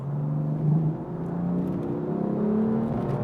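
A 2017 BMW M4 engine accelerates hard in automatic Tiptronic mode, its loud, close tone climbing steadily in pitch through the whole stretch with no one speaking.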